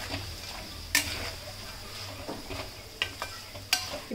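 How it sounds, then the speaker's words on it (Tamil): Fish pieces fry in oil with chili and turmeric masala for a fish pickle, a continuous sizzle broken by a few sharp clicks of a utensil against the pan. "மீன் துண்டுகளை சேர்த்துக்கலாம்."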